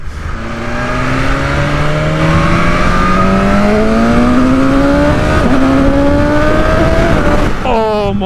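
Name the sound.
BMW S1000RR motorcycle accelerating hard in dynamic mode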